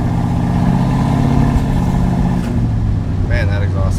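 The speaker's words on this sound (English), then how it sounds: "Man, that exhaust sounds good." A 1986 Ford F150 truck's engine and exhaust rumble in a steady, loud, low drone close by, while people talk over it.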